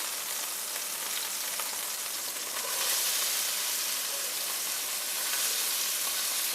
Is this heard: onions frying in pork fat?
yes